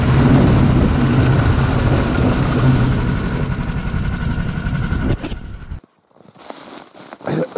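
A snowmobile engine runs steadily on thin early-season snow and first ice, a loud, close mechanical drone that cuts out near the end, leaving a quiet gap before some faint noise returns.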